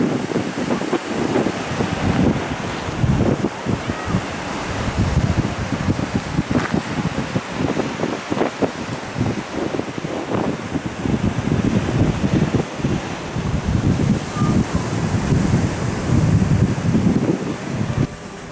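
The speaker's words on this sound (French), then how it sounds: "nous voilà à la plage de Falesia" Wind buffets the microphone at Falesia beach in the Algarve with waves surging beneath, a continuous loud roar with gusty rises and falls throughout, no voices.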